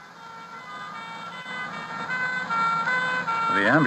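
Ambulance sirens in a radio drama wail steadily, moderately faint and growing louder toward the end, where the tone starts to wobble and sweep, with speech over the top.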